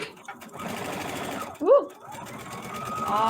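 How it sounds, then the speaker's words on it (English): A sewing machine stitches around a paper heart card banner, whirring in steady bursts close by while a person talks over it. "I am just going to go ahead and sew all"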